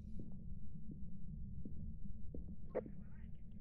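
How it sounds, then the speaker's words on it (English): A steady, deep heartbeat throbs during a ghost hunt in the horror game Phasmophobia. It is a continuous, muffled low pulse with soft periodic thumps, and a brief sharper blip comes near the end. "I can hear the heartbeat real good."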